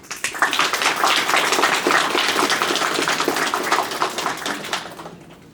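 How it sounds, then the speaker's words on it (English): Sustained applause for the groom at a wedding ceremony, a dense crowd of clapping hands lasting several seconds at steady loudness before fading out. "All right, let's give him a clap."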